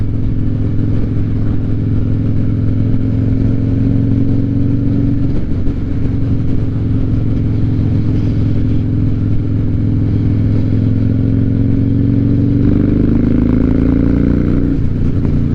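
A Harley-Davidson Night Train motorcycle fitted with a tuner and fresh spark plugs, ridden on the road, gives a loud, steady V-twin drone that rises in pitch near the end as it accelerates.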